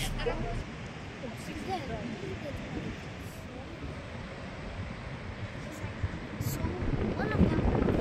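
Wind gusts buffet the microphone outdoors at Chiang Kai-shek Memorial Hall at night, a steady low rumble and rustle throughout, with people talking in the background.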